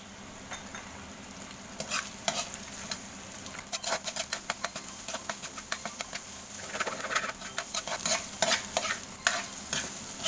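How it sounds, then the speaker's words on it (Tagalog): Mung beans with smoked fish being stirred in a hot pan, a continuous sizzle with rapid clattering scrapes of a utensil that grow busier toward the end, close up and without voices. "Halo lang ng halo, mga kaluto."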